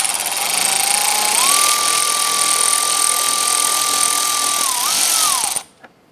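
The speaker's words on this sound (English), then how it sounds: "Use a 10mm. Remove the bolt holding the upper portion of our expansion tank." A power ratchet or impact driver with a 10mm socket whines steadily and loudly for several seconds, dipping and rising in pitch, while a bolt comes out of the expansion tank on a 2011-2018 Ram 1500, then stops abruptly.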